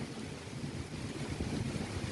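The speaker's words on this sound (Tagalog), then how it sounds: "Kung saan saan napunta yung hangin ay yung ulan." Strong wind with rain blows outdoors as a continuous rushing, buffeting noise across the whole stretch, with no voices.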